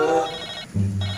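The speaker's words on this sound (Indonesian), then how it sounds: "Wow, ini ada telepon." A toy telephone rings with a bright electronic tone that shifts between pitches over about a second, clear and close with no talk.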